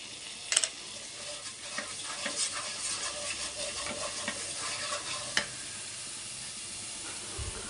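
Ginger garlic paste and chili powder sizzle and fry steadily in a pan, with a continuous close hiss broken by a few sharp scraping stirs, and no voices.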